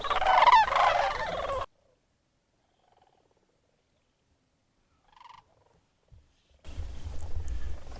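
Sandhill cranes give rolling, trilling calls at dawn in a wetland at Bosque del Apache, loud in a burst at the start and again at the end, with near silence between.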